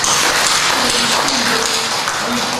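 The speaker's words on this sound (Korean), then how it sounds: "박수 한번 하겠습니다" A church congregation at a Sunday service applauds in a steady, dense wash of clapping from many hands, loud and continuous throughout with no voices standing out.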